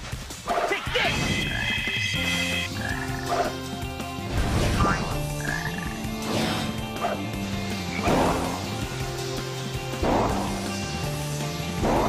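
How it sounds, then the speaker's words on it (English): Frog croaks from the Sonic Heroes video game, repeated low croaking blips over busy game music and sound effects, with short voice bursts from players nearby. "Did you guys hear a croak?"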